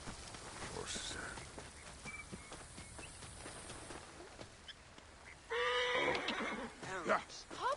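A horse whinnies partway through, a shaky, wavering call rising over outdoor background noise, with people talking before it.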